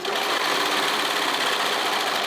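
A serger runs continuously, stitching a swimsuit leg seam with elastic caught along the edge, a fast, even, buzzing whir heard up close with no pauses and no talk.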